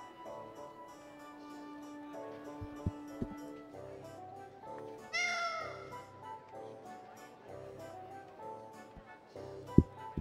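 Cat meowing in the Tales of Vesperia video game, a few short, fairly faint mews over soft game music and occasional sound effects, with no talk.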